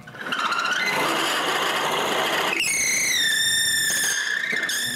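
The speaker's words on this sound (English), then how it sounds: "Then I can mark and drill a hole for the wheel's shaft" A drill bores a shaft hole through a wooden wheel mount for a homemade bandsaw, a grinding whir that shifts midway into a high, steady whine, loud and close, with no voices.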